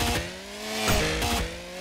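The chainsaw weapon in the Ultrakill video game revs with a buzzing, tonal engine whine, dropping and rising in pitch in a few bursts, loud and close with no speech.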